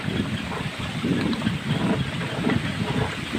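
A steady, dense roar of heavy storm rain mixed with gusting wind in Sariaya, Quezon, fills the scene, constant and loud with no voices.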